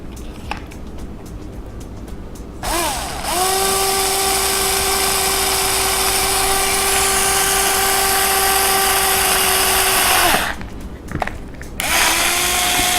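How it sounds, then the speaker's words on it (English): Electric drill boring a hole through a quad motor arm lug, spinning up to a steady high whine that holds for several seconds, then winding down, close and loud with brief handling noise around it. "Let's go ahead and get this drilled."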